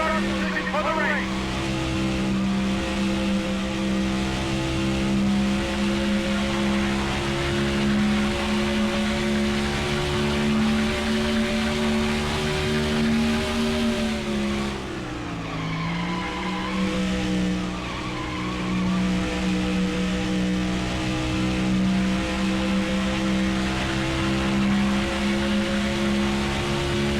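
NASCAR race car engine on a qualifying lap in NASCAR Thunder 2004, a steady loud harmonic whine held for a long stretch with one brief dip and pitch swoop midway as the car goes through a corner.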